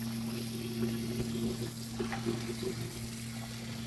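Tap water running steadily into a sink to rinse goat meat in a kitchen, a continuous faint splashing stream under a low electrical hum, no talking.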